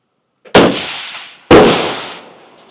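Two sharp rifle gunshots from a Geissele Super Duty AR at an outdoor range, about a second apart, each loud and close with a long fading echo.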